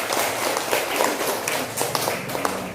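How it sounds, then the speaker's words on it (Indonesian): Schoolchildren in an Indonesian classroom applaud the grape group, a busy, diffuse patter of many small hands clapping unevenly at moderate loudness throughout. "tepuk tangan untuk kelompok anggur"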